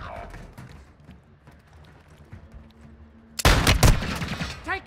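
Rapid bursts of gunfire from a first-person shooter erupt loudly over quieter in-game ambience and soft background voices, a dense volley of close shots cracking in quick succession.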